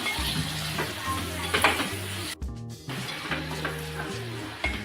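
Cleaned rock oysters sizzling in a pan as they are stirred, with a steady frying hiss, repeated metallic spoon scrapes against the pan and a brief pause partway through.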